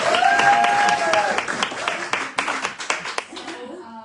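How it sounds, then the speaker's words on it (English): Audience applause at a folk music evening with a traditional British Isles song, clapping loud at first then thinning into scattered claps before fading out, with a voice briefly heard over it. "big round of applause."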